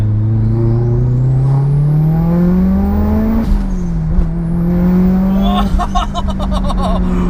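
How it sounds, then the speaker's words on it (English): A 500 bhp daily-driven Mitsubishi Evo 8 pulling hard in second gear, its engine droning loudly as the revs climb steadily, dipping briefly at a shift, then rising again, heard from inside the car. "Do you mind if I just give it a second gear pull?"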